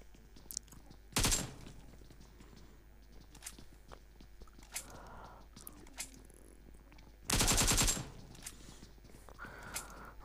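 Gunfire in a battle royale video game match on the Miramar desert map: two short, loud bursts of rapid automatic fire a few seconds apart, with faint clicks and shuffling sounds in between.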